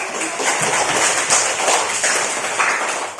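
A steady wash of applause from a classroom audience during a physics lesson on heat transfer, dense, continuous clapping at moderate loudness, sustained evenly without any voices on top.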